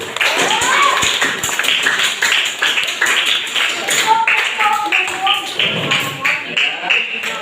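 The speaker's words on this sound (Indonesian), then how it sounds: "Beri tepuk tangan dulu" A classroom of students claps together after a group discussion, a sustained patter of many hands mixed with taps and thumps and some voices talking over it.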